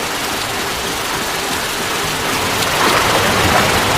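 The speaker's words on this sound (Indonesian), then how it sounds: "Di tengah derasnya hujan" Heavy rain pours down steadily, a dense broadband hiss that stays close and even throughout with no voices over it.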